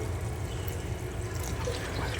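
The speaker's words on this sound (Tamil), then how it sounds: "ஸோ இப்போது தண்ணி ஊற்றிக்கலாம் லைட்டாக." Water pours steadily into a pot of simmering potato and chicken curry, a continuous, close splashing rush with no talk over it.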